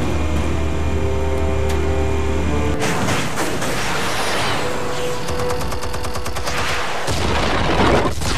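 Explosives detonating in Batman: The Telltale Series, a loud blast cutting through a steady hum, followed by dense rumbling booms and crackling debris that continue to the end.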